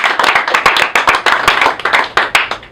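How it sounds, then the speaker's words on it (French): Audience clapping at a comedy show by an Angolan-born stand-up comedian, a brisk burst of many hands with sharp, dense claps, fairly loud and close, no voices over it. "on peut les applaudir quand même."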